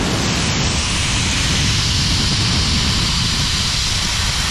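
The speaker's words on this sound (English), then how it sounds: "And let's bleed out this pressure." Compressed air hissing steadily out of an HVAC air compressor as its pressure is bled off, a loud, continuous broadband rush that holds unchanged with no speech.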